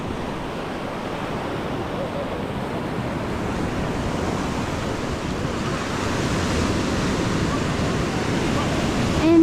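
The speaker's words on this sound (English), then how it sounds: "The waves is so crazy, so you have to be careful." Ocean waves crash and wash continuously at Kata Noi Beach in Phuket, a loud broadband roar of surf mixed with wind noise on the microphone, swelling slightly toward the end.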